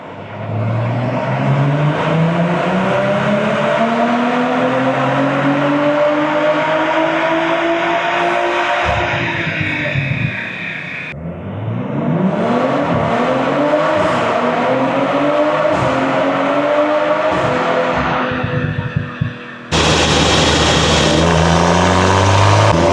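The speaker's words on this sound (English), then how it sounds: "Just want to do a couple of back-to-back pulls just to see how the car is doing now" A Stage 2 tuned BMW M340i LCI accelerates hard in fifth gear over back-to-back pulls. The loud, close engine tone climbs steadily through each run, with brief drops between pulls.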